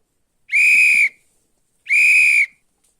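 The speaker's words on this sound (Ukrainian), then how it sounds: "свисток." Two short, piercing whistle blasts, evenly spaced, loud and close with silence between them.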